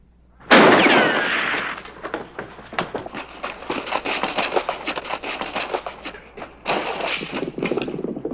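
Gunfire in a western shoot-out at dark: a loud, sharp opening shot followed by a rapid, crackling volley of many overlapping reports, with a brief lull before another burst, close and fierce.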